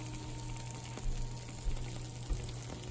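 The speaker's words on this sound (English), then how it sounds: "Listen to that sizzle." Steady frying sizzle of vegetables for a vegan lasagna with a constant low hum, punctuated by a few soft clinks or stirs.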